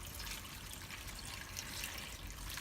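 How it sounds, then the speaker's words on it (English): Water heats on the stove with dried chili pods in it, giving a continuous close, busy bubbling and trickling with no pauses and no talk. "we're going to cook our chili pods in some water"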